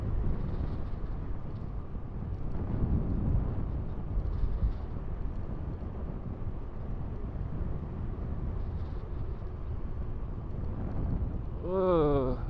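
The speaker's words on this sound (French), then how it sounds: "Là, on a un vent froid de face" Cold headwind buffets the microphone of an electric mountain bike in motion, a steady broadband rush with low rumbling gusts throughout, and a brief wavering tone near the end.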